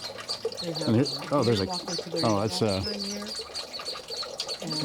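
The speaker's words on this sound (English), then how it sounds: "And you can hear the bird." A mother bird calls repeatedly with soft cooing, warbling notes, close by at Newberry National Volcanic Monument, over faint background noise and some rustling.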